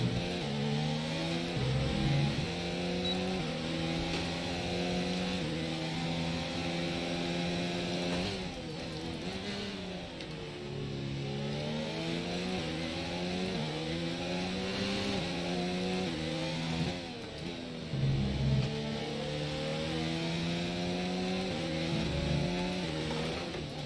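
A Formula 1 race car engine in F1 2020 revs loudly and continuously, its pitch sweeping up and down through gear changes, with a few brief drops as the car lurches, all close and without talk.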